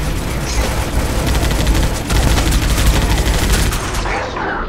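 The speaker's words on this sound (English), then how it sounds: "That machine gun hit me pretty hard." Rapid machine gun fire rattles in a snowy co-op shooter game, dense continuous bursts, loud and close, with a brief pause near the middle.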